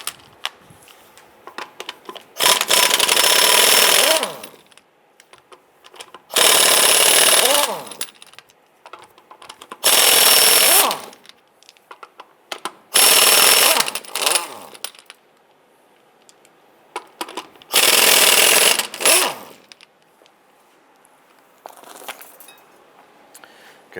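Lug nuts being loosened on a 1995–2001 Ford Explorer wheel with a 19mm socket, five loud buzzing bursts of a power tool separated by pauses, close up.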